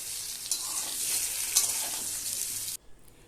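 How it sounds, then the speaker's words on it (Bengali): Chunks of taro and potato fry in oil in a kadai wok, giving a steady, close, bright sizzle that stops abruptly near the end, with no voices. "আলু ও কচুগুলোর দেখুন হালকা হালকা কালার চলে এসেছে। এগুলো ভাজা হয়ে গিয়েছে।"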